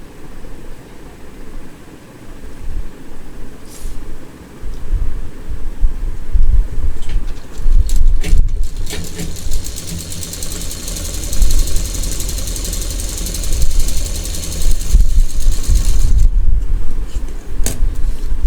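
A sewing machine runs steadily, stitching the green bottom cloth of a flat potli bag, with a loud, continuous motor rumble and a rapid mechanical chatter that swells toward the end.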